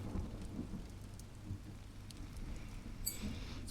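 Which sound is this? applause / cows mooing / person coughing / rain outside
rain outside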